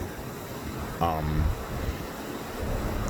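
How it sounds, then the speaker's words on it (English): Steady wind rumbling and buffeting against the microphone throughout, outdoors in the morning in Kenosha, Wisconsin, with a brief voice-like tone in the middle. "It's pretty windy here in Kenosha, Wisconsin this morning"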